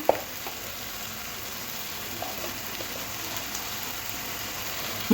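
Ground spices with turmeric and chilli powder sautéing in hot oil for egg devil, a soft, steady sizzle and crackle at moderate distance, with a few faint clinks of stirring.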